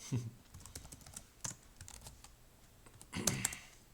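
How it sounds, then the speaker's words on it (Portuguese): Computer keyboard typing with an odd extra noise, a sparse run of close, crisp key clicks with a few louder clustered strikes near the end. "Tem algo, um barulho estranho aqui no meu teclado."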